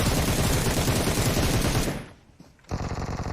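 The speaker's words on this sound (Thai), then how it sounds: "เพื่อนโดนยิงจากด้านหลังนะ" Rapid automatic gunfire from PUBG Mobile rattles loud and dense for almost two seconds, cuts out to near silence, then a fresh, slightly thinner volley of shots resumes.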